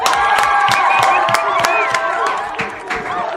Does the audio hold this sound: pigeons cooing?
no